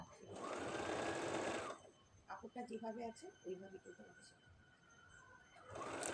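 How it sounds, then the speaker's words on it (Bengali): A sewing machine stitches a strip on a quilted Christmas placemat in two bursts of rapid whirring, one at the start and one at the end. Someone speaks between them. "আবার স্টার্টিং পয়েন্ট থেকে নিয়ে আমি আরেকটা স্ট্রিপ সেলাই করব।"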